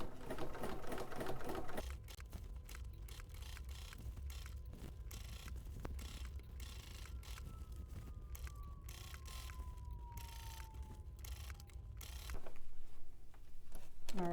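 A sewing machine stitches slowly along a zipper, a close ticking mechanical run with small pauses as it works over the tough part, fairly quiet and steady.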